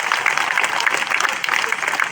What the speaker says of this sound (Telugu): సంతోషంగా ఉంటే చప్పట్లు కొట్టండి ఒకసారి.